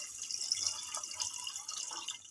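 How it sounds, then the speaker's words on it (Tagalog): Tap water runs and splashes into a pot of mung beans being cooked at home, a soft continuous trickle with faint drips, fairly quiet and without any voices. "magdadagdag ako ng panibagong tubig"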